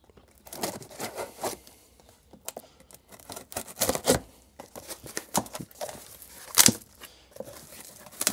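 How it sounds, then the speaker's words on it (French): A parcel holding a Vevor ultrasonic cleaner is unpacked up close, with irregular crinkling, tearing and rustling of packaging in bursts and a few sharper crunches, without speech. "Tac, on va pouvoir déballer ça."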